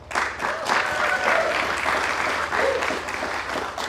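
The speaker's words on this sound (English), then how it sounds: "Give him a round of applause." Audience applause for an immigrant storyteller and poet at a live storytelling event, a steady, full round of clapping from a seated crowd that holds at an even level for about four seconds.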